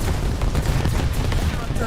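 High-explosive shells from warship guns in a naval combat game, a dense continuous barrage of booming salvos that fills the whole short stretch, loud and close with no talk.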